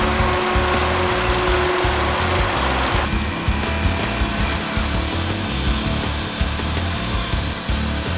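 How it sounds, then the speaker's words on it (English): A loud, steady engine-driven power unit for a Hurst hydraulic rescue combi tool hums and drones continuously, with a mechanical rattle and a slight shift in tone partway through. "Firefighter Silva checks out their Hearst combi tool and its power unit"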